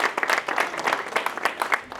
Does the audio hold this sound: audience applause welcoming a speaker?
yes